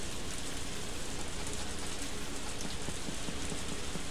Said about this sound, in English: Even the rain is kind of believable in a way.